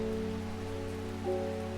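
A brief stretch of steady rainfall in the video game Strange Horticulture over a low, sustained musical drone, even and unbroken.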